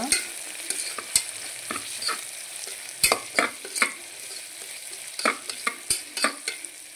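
Onions fry in oil while a spoon stirs them, giving steady bright sizzling broken by repeated sharp scrapes and clinks against the pan, close and fairly loud with no voices.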